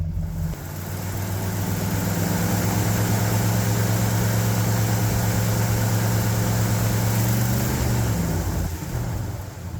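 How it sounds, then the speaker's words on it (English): A 1972 Ford F750 Super Pickup truck sits idling with its engine running, giving a steady deep rumble close by that holds evenly for the whole stretch, with no talking over it. "Has a pretty good idle note at this point."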